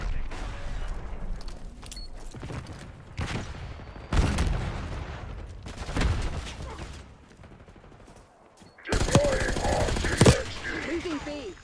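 Gunfire from a Black Ops 6 beta match, heard as loud, close bursts of shots with lulls between them and a sharp flurry near the end.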